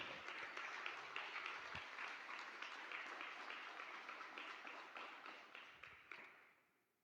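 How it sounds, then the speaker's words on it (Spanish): A church congregation applauds during a service, a steady patter of many hands clapping for about six seconds before fading away at the end, moderately distant. "Dele un gran aplauso al Señor,"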